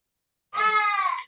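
A young child wails while being bathed at home, one sustained, strained cry that starts abruptly and carries on for under a second, fairly loud and close with no talk over it.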